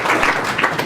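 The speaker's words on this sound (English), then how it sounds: "Was that a ripple of applause for Barclays?" A brief ripple of audience applause at an event, a moderately loud patter of many hands clapping that stays fairly even for under a second.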